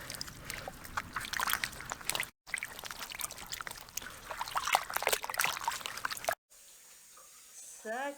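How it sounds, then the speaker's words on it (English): Freshly dug horseradish roots are washed outdoors, water pouring and splashing steadily over them in two long stretches broken by short cuts, with a quieter tail and a voice at the end. "We are washing them first outside."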